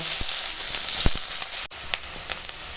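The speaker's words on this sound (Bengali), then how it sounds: "পেঁয়াজটা একটু ভেজে নেব" Onion fries in hot oil left over from frying fish, a steady close sizzle broken by a few sharp clicks of a spoon against the pan.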